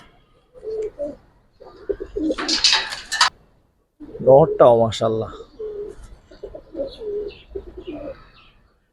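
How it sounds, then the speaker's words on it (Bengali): A female Giribaz pigeon coos in short throaty bursts close by, mixed with a few chirps from other birds, while someone talks over and between the calls. "এটা একটা মাদি কবুতর ভাই"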